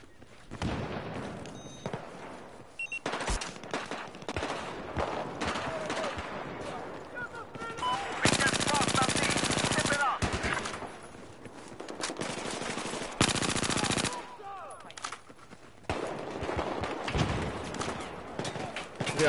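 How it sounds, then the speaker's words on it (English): Video game machine gun fire rattles in long bursts and scattered shots, loud and close, with voices talking between and over the volleys. "There's a machine gun. Right ahead of me."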